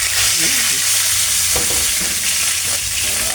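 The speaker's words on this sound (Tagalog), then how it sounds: "Prito tayo." Food fries in a pan at home, giving a loud, continuous sizzle with some stirring and scraping sounds mixed in, and no talking.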